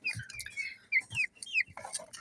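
Pet hens kept warm through winter cluck and give short rising calls close by. The bursts are irregular and overlapping, with no talk.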